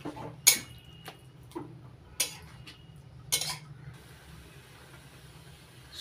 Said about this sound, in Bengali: এবার স্বাদ মতো লবণ আর হলুদ দিয়ে ভালো করে থোড়ের সঙ্গে মিশিয়ে নিচ্ছি